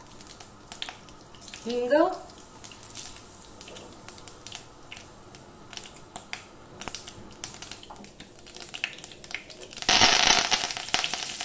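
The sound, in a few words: mustard seeds crackling in hot oil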